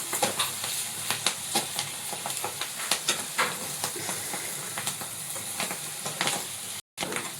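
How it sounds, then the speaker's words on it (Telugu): Fenugreek seeds and onions frying in hot oil, with a steady close sizzle broken by frequent rhythmic scrapes and taps of a stirring spoon, continuous throughout. "మెంతి మంచిగా నూనెలో ఫ్రై అయిపోయింది"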